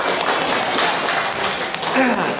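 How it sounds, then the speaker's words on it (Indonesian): A classroom of students breaks into continuous hand clapping, a dense steady round of applause with a voice briefly heard near the end. "Oke, tepuk tangan."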